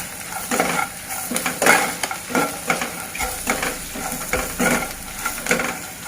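Turmeric and salt mixed into frying food in a pan for a raw banana fry, a close, busy run of repeated spatula scrapes and clinks against the pan over steady sizzling.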